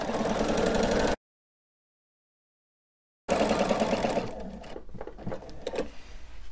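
Sewing machine quilting a straight line on a quilt, its motor and needle running in a fast steady whir, a short pause, then stitching again before slowing into uneven clicks and taps.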